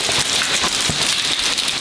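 Rain patters steadily in Japan the day before a typhoon, a dense close hiss of drops hitting surfaces with scattered sharper taps throughout the short stretch.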